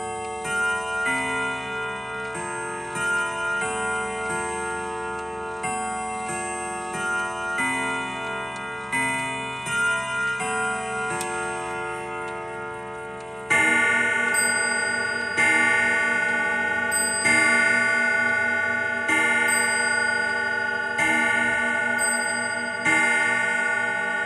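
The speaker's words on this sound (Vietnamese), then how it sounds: "Em cho đánh một tiếng bản nhạc truyền thống bản Webminton." A Ridgeway grandfather clock with chime rods rings the traditional Whittington tune: a long sequence of clear, resonant bell-like tones in a steady melodic rhythm, getting louder and fuller partway through, close and with no talking.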